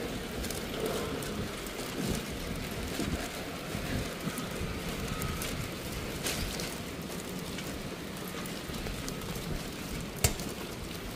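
Steady rain falls with gusting wind outdoors, a dense, even hiss lasting throughout at moderate level, with occasional brief knocks and no talking.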